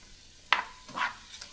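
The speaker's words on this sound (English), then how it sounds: "our little peppers and garlic and onion soup mix in here is sauteing up nicely" Peppers, garlic and onion soup mix sauteing in olive oil in a pan, heard as a few brief, faint stirring scrapes and soft sizzles spaced across a quiet moment.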